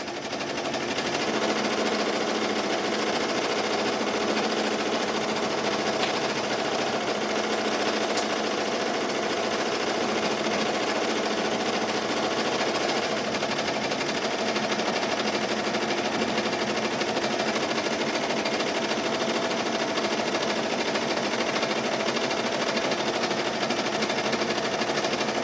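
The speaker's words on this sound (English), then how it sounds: "applies to your single needle embroidery machine" A single-needle embroidery machine stitching an appliqué runs steadily for the whole stretch, an even rapid mechanical hum and chatter without pauses or speech.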